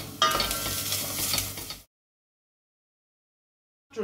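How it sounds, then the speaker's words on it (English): Onions, ginger and garlic frying in a pan for a biryani, a close sizzle and crackle with soft stirring scrapes for under two seconds, then silence. "Fry that for another 2 minutes"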